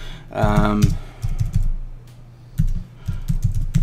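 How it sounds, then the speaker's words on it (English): Rapid clicking of keys on a Sandberg Bluetooth touchpad keyboard comes in bursts and pauses, with a brief voice near the start. "As you can see, typing on it is not a problem at all."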